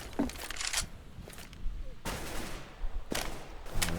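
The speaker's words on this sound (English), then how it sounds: "open things up with a headshot onto Anakill" Gunfire from Counter-Strike in a competitive ESL One Cologne 2015 match, scattered short shots and bursts across a few seconds, moderately loud, mixed with game ambience and faint background talk.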